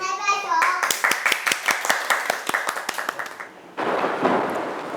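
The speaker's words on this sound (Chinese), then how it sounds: "先拍拍手。" A group claps hands in a steady rhythm of about a dozen sharp claps during a lighthearted weightlifting performance, with voices just before and after.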